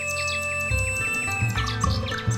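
Bulbul song: bright, repeated chirps and sweet warbling tweets ring out close and clear over a steady low musical backing, with no talking.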